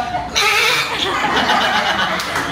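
A person mimics a goat's bleat in a wavering, nasal voice, close and fairly loud, at a lively birthday gathering at a Jollibee restaurant.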